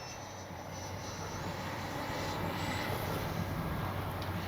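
A Flyfans Baltic Bees 64mm L-39 RC jet on its maiden flight roars at full throttle, a steady loud electric ducted-fan whoosh that holds without a break.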